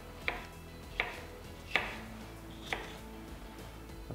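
A knife cuts a pepper into big pieces for gazpacho: four crisp, close cuts land at uneven intervals in a quiet room, with no talking.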